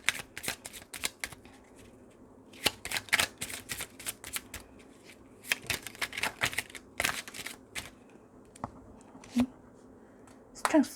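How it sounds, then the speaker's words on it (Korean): Tarot cards are shuffled and drawn, giving bursts of crisp, close riffling and flicking in uneven clusters, with a faint voice at moments. "그러면 이제 시크릿 카드 2장 더 뽑아볼게요."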